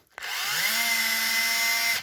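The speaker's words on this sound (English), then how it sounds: "And I like to use a drill because I don't like wasting lots of time." A power drill spins screws out of the chassis plate on a Redcat Shredder RC truck, a click followed by a loud, steady, close whine that holds for nearly two seconds before cutting off.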